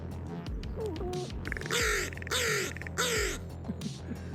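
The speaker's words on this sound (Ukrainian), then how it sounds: "У ворон понад 30 різних слів або звуків." Several harsh crow caws ring out in a series, loud and close, with quieter calls and background noise between them.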